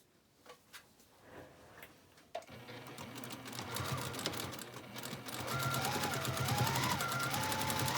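A sewing machine stitches across the corners of a patchwork drawstring bag with a quarter-inch seam, its needle clattering in a fast, even rhythm that starts after a few soft handling sounds and builds to a steady, close whir.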